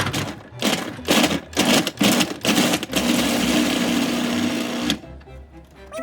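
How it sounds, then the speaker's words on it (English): A food processor chops ginger in short bursts, with several pulsed whirs followed by a longer continuous run of the motor and blade, close and fairly loud with no talk. "Put the garlic, the ginger, and the things that we just cut into the food processor."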